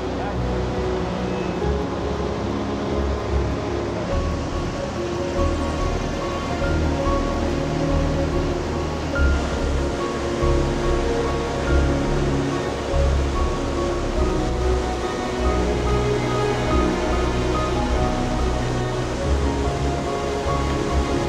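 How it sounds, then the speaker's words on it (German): The Iguazu waterfalls on the Rio Iguazu roaring from below, a dense, steady, loud rush of falling water filling the whole clip without pause. "steigt man zum Rio Iguazu ab und kann die Wasserfälle von unten betrachten"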